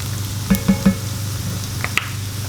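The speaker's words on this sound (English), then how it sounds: "You kind of need to fry tomato paste off when you use it." Tomato paste frying in a hot pan of beef stroganoff, giving a steady low sizzle with a few soft scraping stirs and clicks, close up and without talk.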